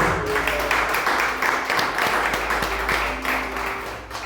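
Steady clapping from a church congregation during an evening family worship service, dense and continuous throughout under faint background tones.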